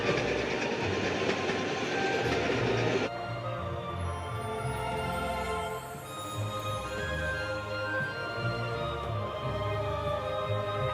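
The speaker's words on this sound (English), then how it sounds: "there is a real-life Hogwarts Express that you can ride through Scotland" The Jacobite steam train rumbles along the West Highland Line in Scotland, its carriages rattling with a steady clickety-clack and wheel squeal close by, loud at first and then settling into a lower rolling drone.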